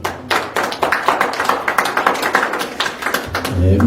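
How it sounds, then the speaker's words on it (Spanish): An audience at a formal ceremony gives a steady round of applause: dense, even clapping that carries for nearly four seconds before fading into a low hum. "También lo recibimos con un fuerte voto de aplausos, por favor."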